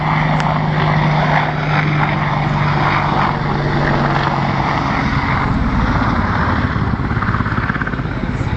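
Low-level flying display by an Air Corps Apache helicopter at RIAT 2012, making a loud, continuous rotor and turbine roar with a steady low hum. The engine noise holds close throughout and no one speaks.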